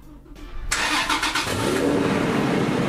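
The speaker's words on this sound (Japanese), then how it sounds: "まずちょっとねエンジンの方かけてみたいと思います" A reissued Toyota Land Cruiser 70 with a large-displacement engine is started with a turned key, a short cranking whir that catches into a loud, steady, close engine roar.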